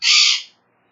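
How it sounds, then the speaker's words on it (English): A single short bird call, bright and fairly close, lasting about half a second before fading to silence, from a finch. "There's the finches. Did you hear those?"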